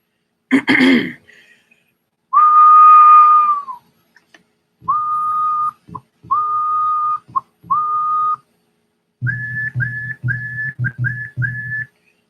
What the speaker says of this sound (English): let me see if I can whistle something up